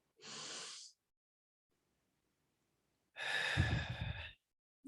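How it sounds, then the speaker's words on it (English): A soft, breathy inhale is followed by a pause, then a longer, fuller exhale through the mouth, close and alone in silence. "we'll just take a nice deep breath."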